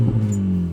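A 2023 Honda Civic Type R with a triple-outlet exhaust gives a brief, mild rev, a thin steady drone close by that fades out quickly.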